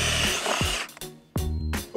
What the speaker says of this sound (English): I don't think our drill likes this too much.